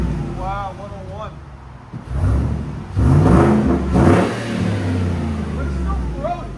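A 2014 Ford Raptor's 6.2L engine with a Carven TR-Series exhaust rises into two loud, close revs after a quieter idle, with its rumble holding steady between bursts while voices speak briefly over it.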